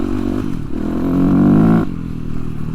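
A Yamaha dirt bike engine revs hard while being ridden up a hill. The engine note is loud and close, and it swells to a peak before easing back.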